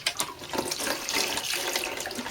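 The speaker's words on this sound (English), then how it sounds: "all we need to do is just to give it a little bit of a water" Water is poured onto herbs in a pot without drainage holes on a window sill, a continuous close splashing trickle lasting a couple of seconds with no talking.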